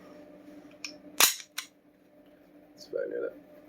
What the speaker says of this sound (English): By locking the slide with the slide release here